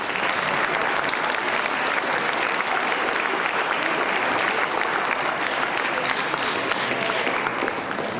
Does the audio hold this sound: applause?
yes